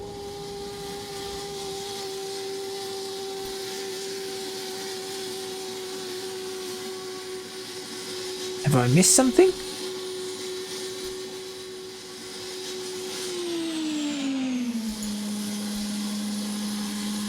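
A DC Designs F-15 Eagle jet engine spools up in Microsoft Flight Simulator 2020 with a loud, steady turbine whine and roar. A voice briefly speaks midway, and the whine's pitch then slides lower.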